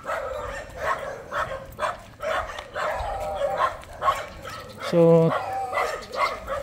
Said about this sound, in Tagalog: But there is dog, no? May aso.